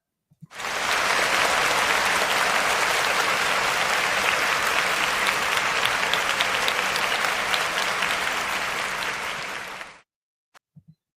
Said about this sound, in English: some applause on that.